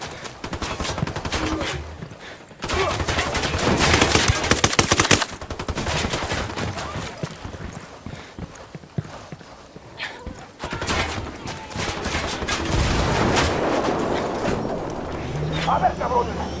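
Gunfire in the video game Ghost Recon Wildlands: loud, sustained volleys of rapid automatic shots that keep going with short pauses, mixed with shouting voices and battle noise.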